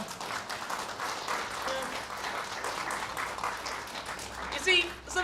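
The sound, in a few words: audience applause after a poetry reading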